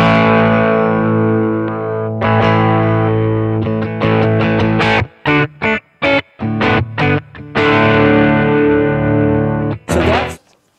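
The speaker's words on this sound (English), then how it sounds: "So that's adding distortion." An electric guitar run through a BOSS SY-1000 with modeled distortion blended in rings out in thick sustained chords, then chops into rapid stabs with sharp gaps before a final sustained hit, loud and close.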